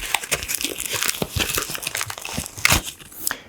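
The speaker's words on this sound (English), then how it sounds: "So let's get out my foil sheet." Foil sheet packaging for scrapbooking being unwrapped, giving steady crinkling and crumpling with a few sharper tearing bursts, close and moderately loud throughout.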